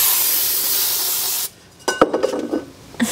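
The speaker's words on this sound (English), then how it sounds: "I'm gonna spray it down with some brake cleaner" Can of brake cleaner spraying in one long, loud, close hiss that cuts off, followed by scattered clinks and rustles.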